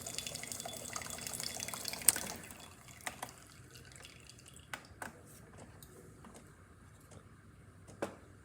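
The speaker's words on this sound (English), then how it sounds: "Hot water working as great as well, nice steady stream" A DeLonghi espresso machine dispenses a steady stream of hot water, a faint continuous trickle and splash with a few soft drips and clicks, quiet and close, with no talking.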